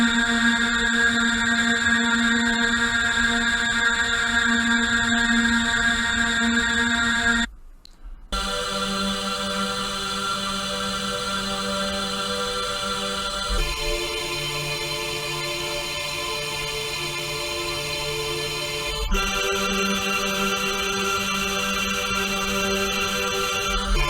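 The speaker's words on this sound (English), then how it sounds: "This is the sound of a star forming." Synthesized space ambient soundscape meant to evoke a star forming: hollow, sustained drone pads shift through a few chord changes, steady and fairly loud with a brief dropout near the eight-second mark and no voices.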